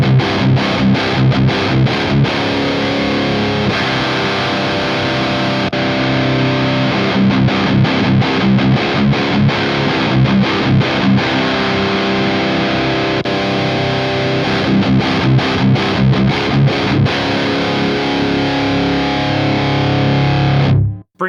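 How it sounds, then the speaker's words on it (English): A heavily distorted electric guitar plays through a Revv G20 amp with a bass-heavy tone, loud and continuous chords with rhythmic choppy stops for about twenty seconds, ending abruptly, with no talking. "So definitely a lot more bassy kind of tones coming out of the G20."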